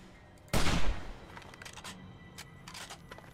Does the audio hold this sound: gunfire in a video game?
yes